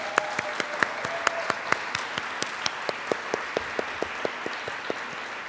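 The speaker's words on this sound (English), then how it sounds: "I think we should give her a huge round of applause now." Applause at the Rosenbach Bloomsday Festival, heard as a steady, fairly quiet patter with one pair of hands clapping sharply and rhythmically close by.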